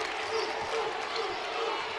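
A high school basketball crowd in a packed gym during a regional championship game, a steady roar of cheering and clapping that stays even and moderately loud throughout, with no distinct voices standing out.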